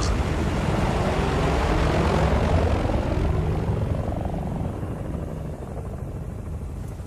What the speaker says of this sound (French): Les hélicos russes, merde, qu'est-ce qu'ils viennent foutre ici?